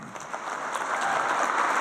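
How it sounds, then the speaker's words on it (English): Applause from an audience welcoming a speaker, starting moderate and swelling into fuller, louder clapping across a couple of seconds, with no voices over it. "Give him a round of applause."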